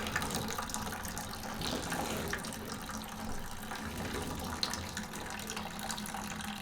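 Grape juice flows steadily from a cold fruit press in a constant, close liquid rush with faint splashing, unbroken for several seconds and with no talking.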